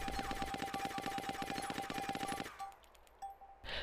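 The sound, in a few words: silenced SD assault rifle firing, DayZ video game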